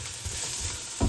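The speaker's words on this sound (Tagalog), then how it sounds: "Ginigisa pala ang papaitan." Onion and garlic being sautéed for Caviteño-style papaitan in a pan: a brief burst of stirring and sizzling near the end, over a steady low hiss of frying.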